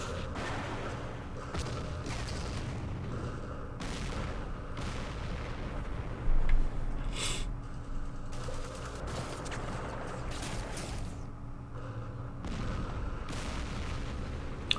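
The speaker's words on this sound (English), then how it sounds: "Close range tank duels." Tank gunfire in the video game Campaign Series Middle East comes as a dense run of overlapping booms and gun bursts over a rumbling battle background, with one louder blast midway and no talk.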